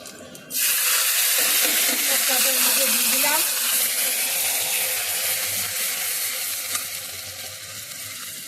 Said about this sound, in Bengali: ফোড়ন জিরে ফোড়ন দিচ্ছি